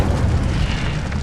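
A fiery Incendio spell erupts in Hogwarts Legacy, a short, dense burst of roaring flame and low rumble that fills the moment loudly and alone.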